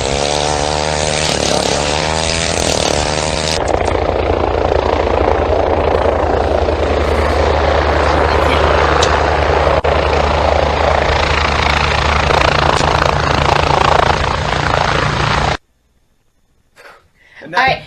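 A motorized ice auger drills into lake ice, producing a loud, continuous droning engine whine with a steady pitch that runs for many seconds and then cuts off, as people talk over it.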